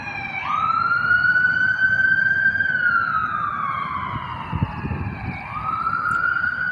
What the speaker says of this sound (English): Let that ambulance go by.